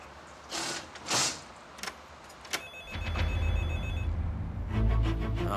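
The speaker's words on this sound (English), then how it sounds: "It's the phone." A telephone ringing in a closed shop, with clicks and a jangle of keys first, then a bright ring tone over a rising low rumble, moderately loud with no voices.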